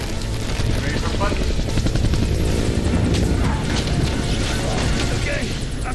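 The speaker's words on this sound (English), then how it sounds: "Get to the chopper!" A helicopter in the video game Call of Duty: Black Ops 6 roars loudly and continuously with rapid rotor chop, voices talking over it amid occasional booms.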